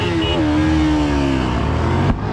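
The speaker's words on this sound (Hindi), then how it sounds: "उधर चला रहे हैं भाई NS 200 और मैं चला रहा हूँ R15 वर्जन 3" A Yamaha R15 V3 motorcycle races a Pulsar NS 200, its engine revving hard in a loud, close, rising whine that climbs and holds before cutting off abruptly.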